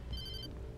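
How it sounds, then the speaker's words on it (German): A telephone rings in the video game Alan Wake: a short, faint electronic ring of bright repeating tones, heard briefly over low background rumble. "Oh, Telefon."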